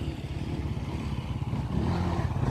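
A steady motor engine drones nearby, rumbling low and growing slightly louder toward the end, with no voices.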